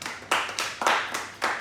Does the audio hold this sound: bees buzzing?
no